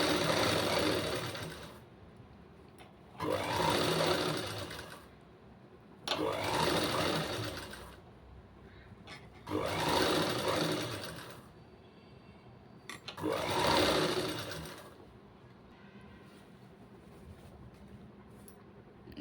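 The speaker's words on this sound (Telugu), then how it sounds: "మనం దీన్ని ఇలా ఫోల్డింగ్ చేసుకొని కుట్టుకోవాలి." A computer sewing machine stitches folded piping onto a neckline in five separate bursts of rapid, steady needle clatter, each lasting a couple of seconds, with quiet pauses between them.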